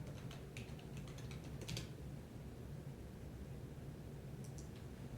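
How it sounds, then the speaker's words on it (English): Someone types a server name on a computer keyboard. Quick bursts of close, faint key clicks come in two short runs separated by a quiet pause over a soft background hiss. "So I'm going to type in the name of an on-premise server."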